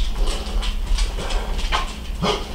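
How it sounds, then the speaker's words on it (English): Several dogs yip, bark and whimper indoors in short excited bursts, close to the listener, over a low steady hum. "There are the dogs."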